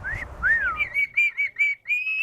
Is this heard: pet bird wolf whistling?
yes